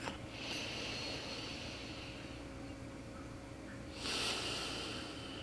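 An audible exhale and inhale during a yoga class, a soft airy breath near the listener over a steady low hum, with a stronger breathy rush near the end.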